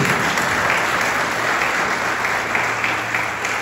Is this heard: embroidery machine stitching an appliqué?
no